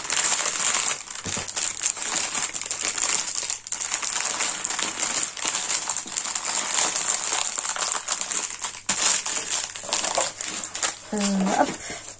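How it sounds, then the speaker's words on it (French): Plastic pouch crinkles and crushes as diamond painting diamonds are put back into it, a steady close rustling throughout, with someone talking softly over it. "je vais remettre les diamants dans la pochette"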